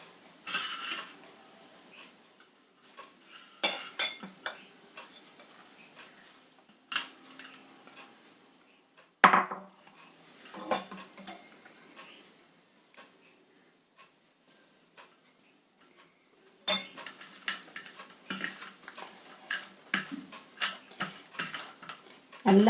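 Cooked dough is kneaded by hand in a vessel, making sparse soft slaps, rubs and clicks against the pot, with quiet gaps between bursts of activity.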